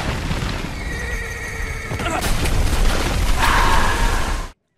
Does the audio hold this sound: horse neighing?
yes